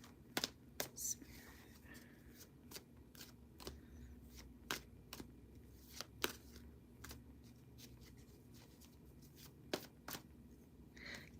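Tarot cards being shuffled by hand make soft, sharp slaps and riffles at irregular intervals, close and fairly quiet, with faint low whispering voices underneath.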